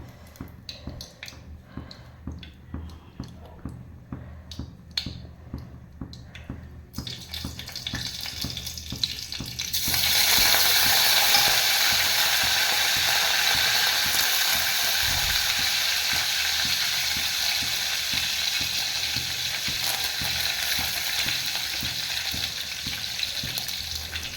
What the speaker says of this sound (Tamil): எண்ணெய் காஞ்சதையும் இந்த கடுகு பெருங்காயம் கருவேப்பிலை இதை மூணையும் ஒன்றாவே போட்டுக்கலாம்